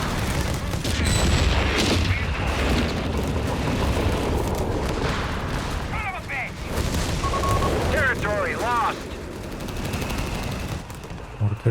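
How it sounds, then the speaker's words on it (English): Artillery barrage in the strategy video game Company of Heroes 3, steady rumbling explosions and gunfire layered through a continuous battle din, moderately loud, with someone talking over it. "I was thinking surely this barrage is over now"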